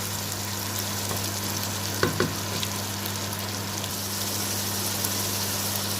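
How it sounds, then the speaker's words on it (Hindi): Minced meat (keema) fries in a pan for aloo matar keema, giving a steady, even sizzle throughout with a couple of brief stirring scrapes near the middle. There is no talking. "कीमे को हमने अच्छे से भूनना है ताकि कीमे को स्मेल वगैरह जो है बिल्कुल खत्म हो जाए"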